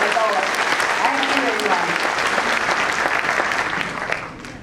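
A school audience claps loudly and continuously before a children's stage performance of a Ramayana musical, a dense wash of hands with faint voices underneath, tapering off near the end.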